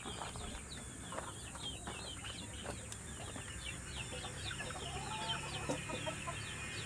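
Chickens cluck steadily around a farmyard, the calls layered and close, with scattered bird chirps and a low ambient rumble beneath and no talking.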